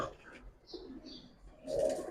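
Giribaz pigeons, red-geared and stone-eyed, coo softly and briefly in a faint, close exchange, with low murmuring voices in the background.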